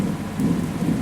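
Steady rain pours down in a dense, even wash of noise for about a second, with no voices.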